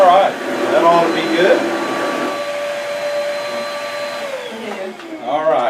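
A vacuum cleaner runs steadily during a cleaning demonstration with water, its motor whining at a constant pitch while people talk over it, then the motor winds down near the end.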